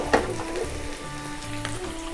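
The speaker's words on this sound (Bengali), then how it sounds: "পেঁয়াজ কুচোগুলো দিয়ে দেবো এবার" Chopped onions fry in a pan for chicken khichdi, a steady close sizzle running unbroken throughout with a few soft stirring scrapes on top.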